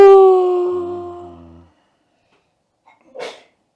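A single short, breathy sneeze bursts out near the end, after a fading tonal whine and a moment of silence, during a back massage and spine-cracking session.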